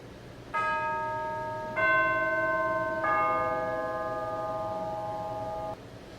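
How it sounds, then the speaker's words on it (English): Organ chimes struck with a mallet ring out three times, each a clear bell-like strike that rings on and overlaps the next, sustaining together before a sudden cutoff, over a quiet background. "chimes are struck with a mallet, which gives them a percussive sound. Here's what they sound like."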